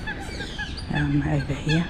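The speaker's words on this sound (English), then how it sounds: "A grown-up swan with baby swans" An adult swan with cygnets in St James's Park, London, gives a few nasal honking calls close by, mixed with a person speaking.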